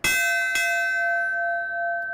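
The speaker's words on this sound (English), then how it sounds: "that's when they'll ring this bell" A single loud bell strike rings out clearly, followed by a second light tap, its bright metallic tone sustaining and slowly fading.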